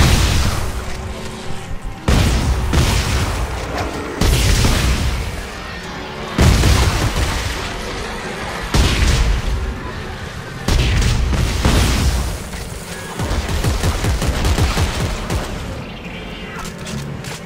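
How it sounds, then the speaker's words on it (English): Shotgun blasts in Dead Space 3, a loud series of heavy booming shots spaced about two seconds apart, each with a ringing tail, with faint voices in between. "I think the shotgun solved my ammo problems"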